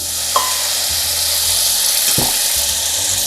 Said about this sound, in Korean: 마늘을 볶아주시다가